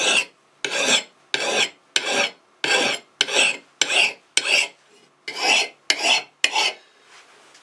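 A fine bastard file strokes across a hatchet head during restoration, about a dozen rhythmic rasping passes, close and loud, alone without talk.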